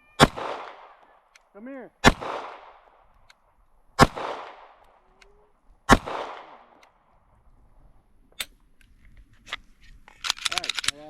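Four loud, evenly spaced Ruger RXM pistol shots ring out about two seconds apart, each with a short echoing tail, then a rapid cluster of sharper cracks near the end, with a brief spoken voice.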